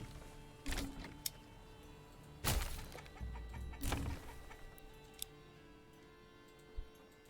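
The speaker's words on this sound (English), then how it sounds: "chickens." Chickens in the medieval game Manor Lords give a few quiet, scattered clucks and squawks in short bursts over a low, faint game ambience, with small ticking clicks between them.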